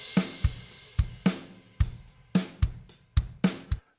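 Kyle, the Logic Pro Drummer virtual drummer, plays a steady groove with punchy kick and snare hits, cymbal and hi-hat wash, close and clear, with no talk over it.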